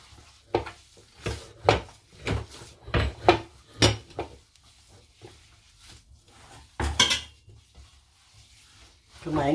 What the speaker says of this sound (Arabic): نخلطو مزيان هاد الخليط باش تمسكنا هاد العقده ديالنا.